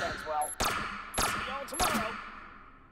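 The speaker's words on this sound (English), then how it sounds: "Some sort of futuristic blaster pistol." Three sharp energetic shots from a futuristic blaster pistol in the VR shooter Hot Dogs, Horseshoes & Hand Grenades, fired at a steady rhythm about half a second apart, each with a bright zap and ringing tail, loud and close with no talk.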